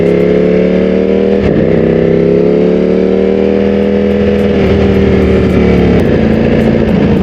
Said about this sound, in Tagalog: I-stroll lang natin tong motor natin